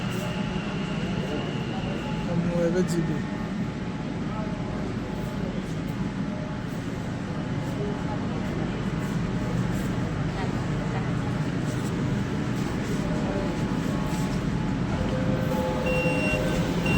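An underground metro train in West Bengal rumbles steadily as it arrives, its low drone running throughout under people talking nearby.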